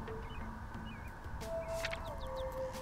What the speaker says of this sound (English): Those are some really loud birds.